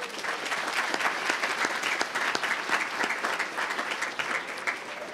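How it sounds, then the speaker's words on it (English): A luncheon audience in Omaha breaks into steady applause, many hands clapping densely and evenly at close range for about five seconds, with no voices standing out. "A round of applause, please."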